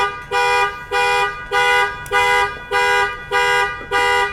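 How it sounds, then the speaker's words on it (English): A loud car alarm sounds nearby, repeating strong tonal blasts about twice per second in an even, insistent pulse with nothing else heard. "we'll just pause while the car alarm's going off"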